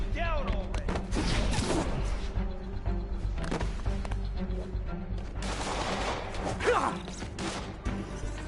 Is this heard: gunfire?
yes